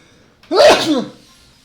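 A single sharp human sneeze, loud and close, bursting out once in a quiet room during a live game stream.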